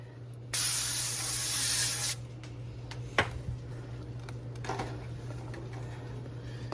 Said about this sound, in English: First we're going to spray the pan.